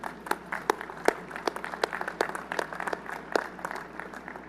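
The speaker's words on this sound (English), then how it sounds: "Would everyone please join me for a round of applause?" A university commencement audience claps in a sparse, uneven round of applause, individual sharp claps standing out over a softer bed of clapping, with no speech.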